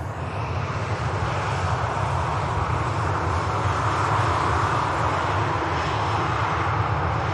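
An ATR turboprop lined up for takeoff at Manchester Airport, bound for the Isle of Man, gives a steady, loud engine drone with a low propeller rumble that holds unbroken throughout.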